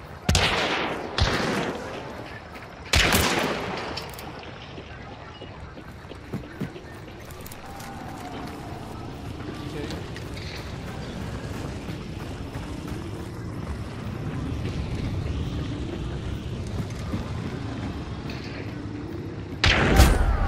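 Gunfire in the video game Hunt: Showdown, several loud sharp shots in the opening seconds and one more at the end, separated by a long stretch of low rumbling ambience.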